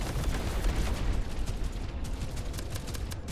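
Sustained rapid gunfire in a video game, a dense stream of close, loud shots rattling without pause for a few seconds, with no talking.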